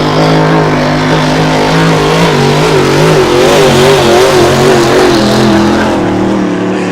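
The engine of the Miss Merion Bluegrass racing hydroplane roars steadily and loudly on a race course in Pateros, its pitch wavering as it runs hard, with no talking over it.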